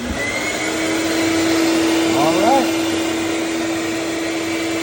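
A rat vacuum trap runs with a steady, loud motor whir and a strong constant hum throughout, while someone briefly speaks over it.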